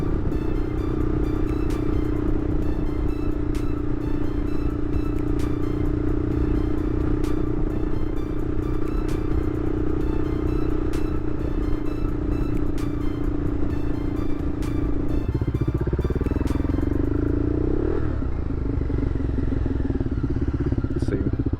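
A Honda Superhawk 996 (VTR1000F) V-twin motorcycle cruises on a road, its engine giving a steady, loud, continuous drone with wind rumble, then changing pitch near the end as the rider shifts or eases off.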